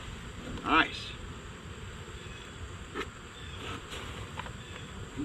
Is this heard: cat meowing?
no